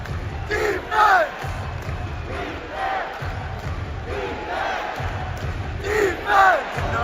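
A basketball arena crowd at an LA Clippers game against the Phoenix Suns chants "defense" in a repeated two-beat rhythm, loud and roomy, with the chant pulsing over a steady crowd roar throughout.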